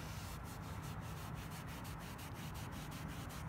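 Applicator pad rubbing a CarPro Cquartz leather coating into leather upholstery, a soft steady back-and-forth scrubbing in quick rhythmic strokes, close and very faint, no talking.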